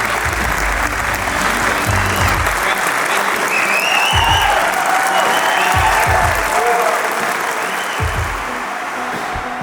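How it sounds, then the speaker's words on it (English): A crowd bursts into sustained, loud applause for the winners of the 36th annual Best Ranger Competition, a dense steady wash of clapping that runs the whole stretch while a voice speaks over it. "please give a round of applause for the very best of the best"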